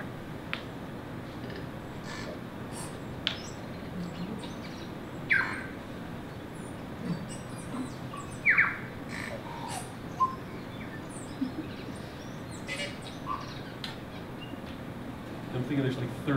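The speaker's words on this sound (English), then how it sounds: "that's the parson bird. It was the tui" A tui, the New Zealand parson bird, singing in a tree, with scattered short chirps and clicks over a steady background hiss, fairly distant and faint.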